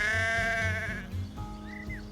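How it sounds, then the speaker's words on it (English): A ram bleats loudly and close by among a herd of cattle, giving a sustained wavering bleat followed by a shorter, higher call, with a low rumbling background. "A herd of cattle and a ram."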